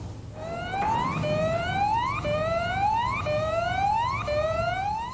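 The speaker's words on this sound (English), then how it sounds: "warning sirens sound to alert the workers" Warning sirens in a railroad car shop assembly line wail in repeated rising sweeps, about five evenly spaced upward glides, loud and clear over a low mechanical hum, with no talk.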